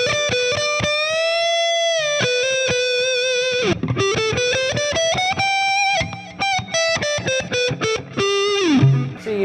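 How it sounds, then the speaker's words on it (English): Epiphone ES-339 Pro electric guitar with P90 pickups played through its neck pickup at high gain, giving loud, sustained distorted notes and bends with quick choppy phrases, alone with no talking. "Let's hear that neck pickup sound."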